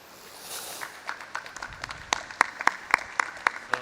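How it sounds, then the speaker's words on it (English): Applause from a conference audience after a talk, starting as a faint scatter and building into sharper, distinct claps toward the end. "Extra round of applause."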